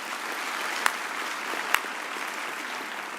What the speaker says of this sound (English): another round of applause for the Vice-Chancellor